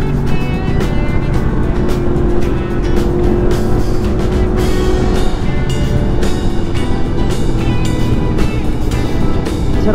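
Yamaha MT-10 motorcycle riding at speed on a test ride, a loud continuous engine drone mixed with heavy wind rush, with a steady pitch that holds close and strong throughout.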